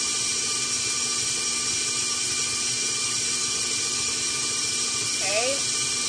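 An electric stand mixer creams butter and sugar for cookies in a home kitchen, giving a steady, even motor whir that runs unbroken from start to finish.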